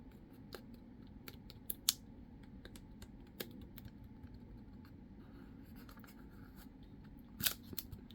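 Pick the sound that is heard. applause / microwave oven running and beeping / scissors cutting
scissors cutting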